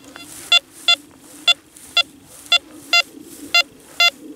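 A Pirate Black Devil 2 Pro metal detector in single-tone mode sounds off over a large piece of iron: eight short, evenly spaced beeps about half a second apart, loud and clear above a low steady hum.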